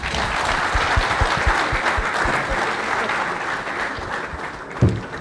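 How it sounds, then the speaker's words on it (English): A conference audience at an AI and robotics event gives sustained, dense applause for a keynote speaker, an even roomful of clapping with no voices, thinning slightly near the end. "I think our first keynote speaker deserves a bigger round of applause"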